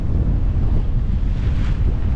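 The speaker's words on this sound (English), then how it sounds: "See waves breaking on the shallows and on the jetties." Wind and sea aboard a sailboat on the Atlantic Intracoastal Waterway in somewhat rough water, with waves breaking on shallows and jetties nearby: steady loud rushing wind buffeting the microphone over a continuous low wash of surf, no voices.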